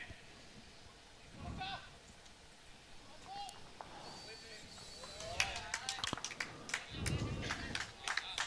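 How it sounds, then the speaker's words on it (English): Applause from a crowd at the World Bowls Championships swells into scattered, then fuller clapping for a player's shot, with a commentator's voice running underneath throughout. "The applause that you just heard there is for Alex Marshall"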